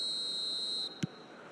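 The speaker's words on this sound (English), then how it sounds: "There's the whistle." A referee's whistle in the eFootball 2026 soccer game gives one steady shrill blast of nearly a second, then a short sharp blip, heard over a low crowd-like hum.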